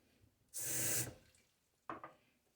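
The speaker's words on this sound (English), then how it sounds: "The brush, I'm going to get back in the water." A shaving brush is plunged into water in a close, splashy half-second burst of sloshing, followed after a pause by a shorter wet swish, all in an otherwise quiet room.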